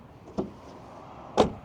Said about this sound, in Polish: Drzwi z przodu.